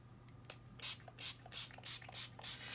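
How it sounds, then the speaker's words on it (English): Gloss spray misted onto a denim-themed art journal page over white acrylic paint circles, heard as a series of short, close hissing bursts about every third of a second, each with a soft pump click, over a faint steady hum. "And now I'm soaking them with gloss spray."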